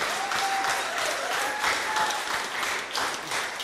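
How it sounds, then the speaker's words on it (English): Indoor audience at a public meeting gives a speaker a round of applause, steady dense clapping at moderate loudness with a faint tonal whistle of microphone feedback running through it. "Round of applause."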